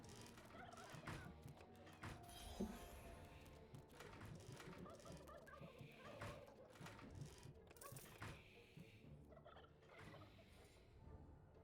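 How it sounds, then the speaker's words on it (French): Turkeys in the video game Dungeons 3 gobble in quick, faint bursts, with a few thunks in between, under quiet speech. "Pauvres dindons qui vont se faire grailler leur mort là."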